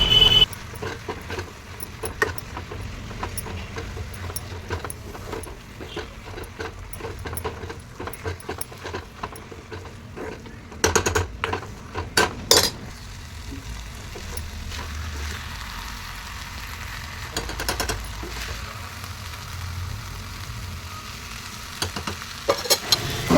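Fenugreek leaves and moong dal are stirred in a pan for a palya, with a soft ongoing sizzle, scraping strokes and a cluster of sharper clattering knocks partway through.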